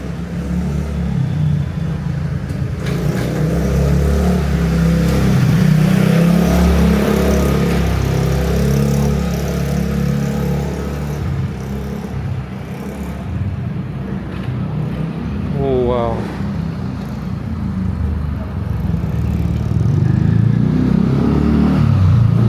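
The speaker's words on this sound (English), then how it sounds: "Wondering why so many motorbikes?" Motorbikes pass through a narrow back lane in Kuta, Bali, engines droning and revving near and far in overlapping waves, with one brief rising rev standing out midway.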